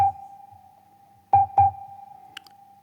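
Sample A01 plays from a pad on an Akai MPC2000XL sampler as a steady, thin electronic tone, with two quick louder hits partway through, clean and close with no talking.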